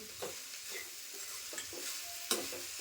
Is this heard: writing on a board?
no